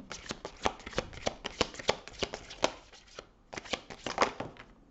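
Tarot cards are shuffled by hand in a quick run of crisp riffling slaps and flutters. A brief pause comes before a second burst, close and clear, with no voices.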